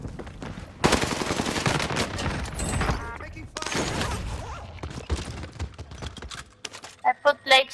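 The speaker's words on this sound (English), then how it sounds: "I'm in the white building shooting at the tower." Gunfire in Call of Duty Warzone Pacific, with dense bursts of automatic fire from a PPSh in long volleys separated by short pauses, followed by sparse clicks and a few brief tones.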